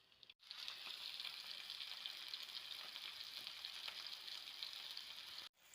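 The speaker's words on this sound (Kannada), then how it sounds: "ಅದಕ್ಕೆ ಎಣ್ಣೆ ಹಾಕಿದ್ದೇನೆ. ಎಣ್ಣೆ ಬಿಸಿಯಾಗಿದೆ. ಬಿಸಿಯಾದ ನಂತರ ಮೀನನ್ನು ಹಾಕಬೇಕು." Rava-coated pomfret fish frying in hot oil on a tawa, a steady, even sizzle holding close and loud for several seconds with no talking, breaking off briefly at the start and end.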